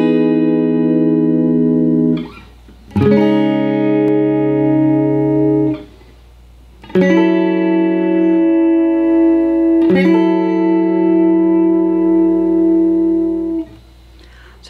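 Electric guitar plays the chorus part of a song, ringing clean chords that change in steady phrases, loud and alone, each chord sustaining for a few seconds with brief dips between.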